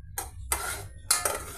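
Rice boiling in milk on a low flame, four cups of milk to one cup of rice, stirred in a pot: soft scraping, clinking strokes in two short bursts, fairly quiet and close.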